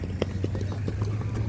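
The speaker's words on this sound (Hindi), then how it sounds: "काफ़ी घोड़े आ रहे हैं," Horses arriving at a village horse race in Kutch, Gujarat, clip-clop in a steady run of hoofbeats over a constant low hum, with faint voices in the background.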